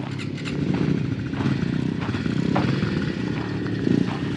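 A motorcycle riding in second gear in the desert, its engine a loud, close, continuous rumble that holds steady throughout with a faint rattly texture.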